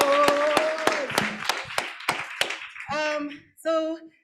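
Scattered claps from a panel-discussion audience at an International Women's Day event, a handful of sharp separate hits rather than full applause, followed by a brief tonal sound near the end.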